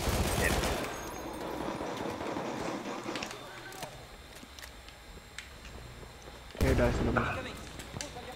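An explosion in the Battlefield 1 video game arrives as a sharp blast at the start and a second heavy boom near the end, over a background of distant battlefield gunfire and voices talking.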